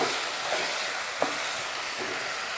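Banana fruit curry for a South Indian sweet pachadi cooks in a pan with a soft, continuous sizzle and bubbling, plus a faint tap or clink of a utensil near the middle.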